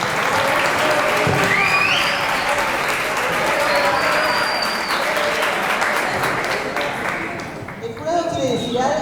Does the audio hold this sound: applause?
yes